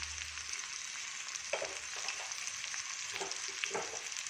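Onions and spices fry in a pan for gojju with a steady close sizzle and a few soft stirring scrapes, no voices.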